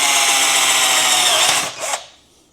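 A cheap Harbor Freight power drill runs steadily at high speed for about a second and a half, then winds down with a brief final whir before stopping.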